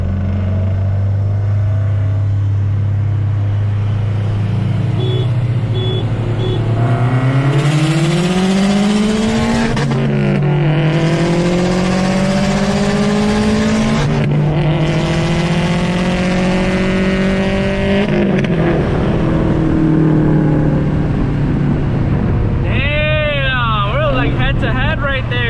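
Stage 2 Subaru WRX and STI accelerating hard in a second-gear roll race from 30, with a loud engine note climbing in pitch through the pull, an upshift near the middle, then settling; near and continuous throughout.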